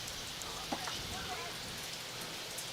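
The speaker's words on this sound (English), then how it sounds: "Loves the rain." Steady rain falls across an outdoor lawn bowls green during a state championship, a soft continuous patter with faint murmuring voices in the background.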